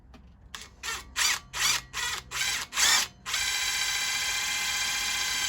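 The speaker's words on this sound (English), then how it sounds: "when you get it, it'll just drill its hole" A power drill fires in several short, loud bursts like a ratcheting clutch, then settles into a steady, continuous whir while it bores a hole, close by with no talk.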